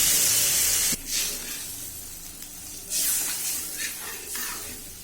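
Water poured into a hot pan of cooking potato curry, setting off loud hissing sizzle bursts that swell, fade and flare again up close.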